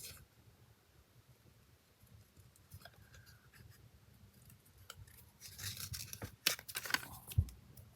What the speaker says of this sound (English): I'm going to cut right along the black line.